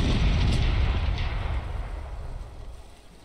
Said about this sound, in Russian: Левый борт Готов к залпу?